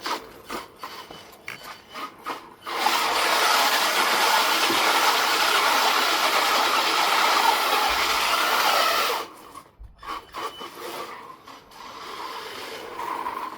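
An RC Land Rover Defender body on an HPI Bullet chassis spinning a power donut: a loud, steady electric-motor whine with tyre scrub rises sharply, holds for several seconds, then cuts off, with softer motor bursts around it.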